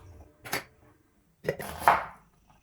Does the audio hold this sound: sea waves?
no